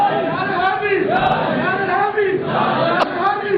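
A dense crowd raising the religious slogan Naara-e-Haidri together in a loud, steady roar of massed voices, with rising and falling chant-like swells over about three and a half seconds.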